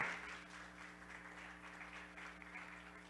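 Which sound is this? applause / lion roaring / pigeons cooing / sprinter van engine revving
applause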